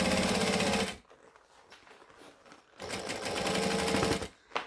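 A sewing machine stitches over a side seam with the bulk trimmed out, running in two loud, steady bursts split by a quieter pause near the machine.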